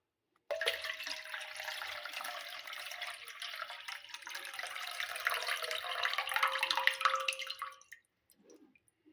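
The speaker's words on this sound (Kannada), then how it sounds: "ಈಗ ನೀರು ಹಾಕೋತೀನಿ ನೋಡ್ರಿ" Water is poured into a vessel to wash homemade butter before it is made into ghee. The pour is close and continuous, a splashing, gurgling stream lasting about seven seconds before it stops abruptly, with no voices.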